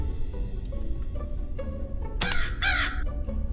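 A couple of harsh bird caws from the PC horror game Granny ring out over a constant low background hum and faint clicks, with no talking.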